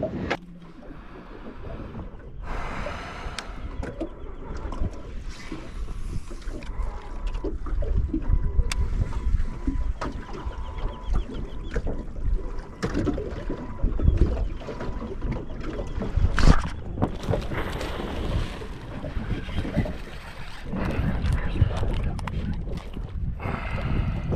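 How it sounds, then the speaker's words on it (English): Water slaps and knocks against a fishing boat hull in irregular bursts in a breeze at Karumba, with a low rush of wind blowing steadily underneath. "There's a bit of breeze blowing, slapping on the side of the boat"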